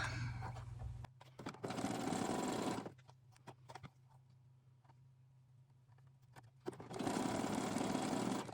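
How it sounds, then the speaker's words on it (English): A sewing machine stitches doll panties in two loud, steady whirring runs at the start and end, separated by a quiet pause with faint handling clicks. "Make sure I don't sew extra in here."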